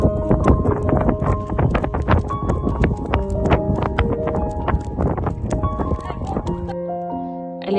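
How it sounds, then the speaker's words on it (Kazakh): Hooves of a ridden horse clip-clop in a steady, close rhythm throughout, with talk and faint background music over the footfalls. "Сен жылқыға мініп көрсек бола ма?"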